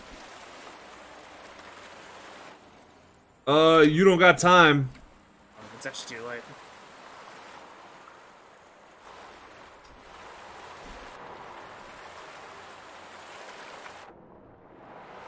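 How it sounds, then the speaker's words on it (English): Water flowing in the Raft survival game, a steady soft rushing wash running through the whole stretch, with a loud voice breaking in briefly near the start and quieter talk after. "Oh shit, there's water!"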